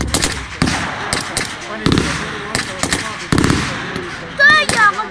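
Gunfire at a military battle reenactment, machine gun bursts and heavier cannon-like blasts aimed at an armoured vehicle, loud, sharp reports in irregular clusters, with someone commentating over the noise.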